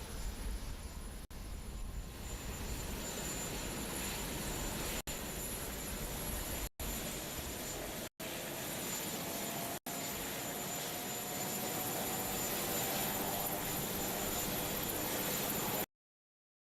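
Marine One, the white-topped presidential helicopter, makes a steady loud rotor and engine roar that holds for about sixteen seconds. The noise is broken by a few brief dropouts, then cuts off.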